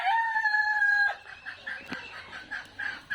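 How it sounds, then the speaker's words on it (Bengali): A rooster crows in a long drawn-out call, followed by several short, soft clucks from Fayoumi chickens repeating at a steady pace nearby. "এগুলো হচ্ছে আমাদের ফাউমি মুরগি ডিমের রানী"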